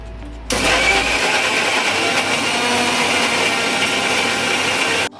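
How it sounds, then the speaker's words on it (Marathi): A kitchen mixer grinder whirs to life after a brief pause and grinds cooled spinach, holding a loud, steady motor drone with gritty churning until it cuts off at the end. "हे मिक्सरमधून बारीक करून घेऊया"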